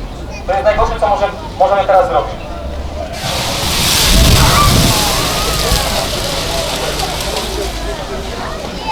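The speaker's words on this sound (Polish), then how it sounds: "co się stanie, gdy komuś przyszło do głowy zagasić to wodą" At a fire brigade demonstration, water is thrown onto a burning kitchen stove and the fire erupts in a sudden loud whoosh and roar that fades slowly into crackling and hissing. Voices talk just before the burst.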